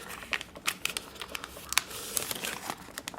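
Paper being smash folded by hand while shaping the legs of an origami kangaroo, giving close, quiet crinkling and crisp creasing bursts in an irregular rhythm with no talk.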